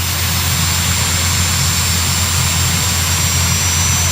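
A turbine-powered pulling tractor at a county fair tractor pull, with its engine roaring as a loud, steady jet-like whine. The whine has a thin high tone on top and holds level throughout, with no voices.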